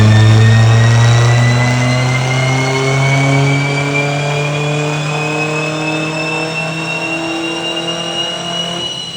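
A tuned BMW 123d diesel, making 328 hp and 600 Nm, revs on a dyno, its loud engine note climbing steadily in pitch through one long pull before easing off at the end.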